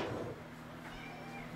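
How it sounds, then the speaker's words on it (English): A house cat meows in a kitchen during muffin baking, a short faint call over steady room noise. "There's a kitty cat."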